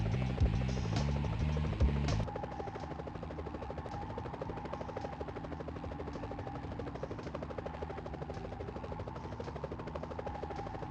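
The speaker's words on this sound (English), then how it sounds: "Whoa, police choppers." Police helicopters in the Nintendo 64 Spider-Man game: a steady, rapid rotor chop with an electronic buzz, continuous and fairly loud, after a short stretch of game music at the start.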